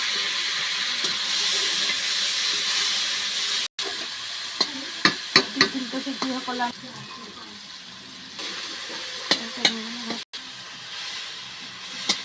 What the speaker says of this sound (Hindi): तेल गरम हो गला पियाज देले टमाटर दे दवा